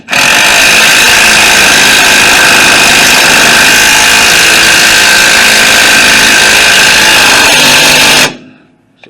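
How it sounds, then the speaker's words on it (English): Power tool tightening the bottom rear shock bolt on a 2007 Ford Focus, a loud, steady high-pitched whirring drone running for about eight seconds up close before stopping abruptly. "this bottom bolt, you just want to run it in until it's pretty tight"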